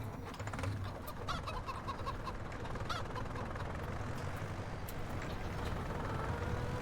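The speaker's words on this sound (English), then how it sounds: "These chickens are disappointing." Chickens cluck and squawk in a farming video game, a steady busy flock chatter running throughout over a constant low background hum.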